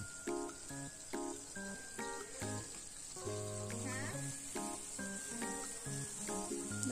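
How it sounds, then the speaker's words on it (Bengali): Rohu fish pieces fry in hot oil, being turned from side to side, giving off a continuous soft sizzle that sits beneath louder background music. "মাছটা এপিট ওপিট করে ভেজে নিচ্ছি।"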